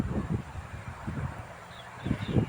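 Evening wind blows across a ripening rice field, giving soft gusty rustling of the stalks in uneven waves with low buffeting and a stronger gust near the end. No one speaks.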